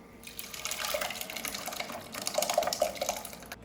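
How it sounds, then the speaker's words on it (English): Reduced red wine poured into a smoked marinara sauce, giving a soft, steady liquid pour with a few gentle splashes and bubbling drips, close and fairly quiet. "Just gonna pour it in. I reduced down my red wine."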